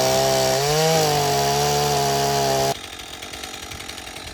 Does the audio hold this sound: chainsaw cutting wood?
yes